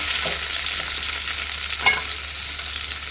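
Ginger and onion fry in a pan for Caribbean brown stew chicken, with a close, constant sizzle and a single soft clink of a utensil partway through. No one speaks.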